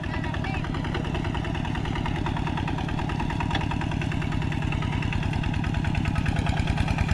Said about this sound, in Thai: การขับรถไถ